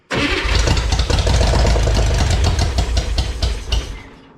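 An engine fed with starting fluid cranks, catches and runs loudly up close for a few seconds with a rough, uneven rumble, then dies away.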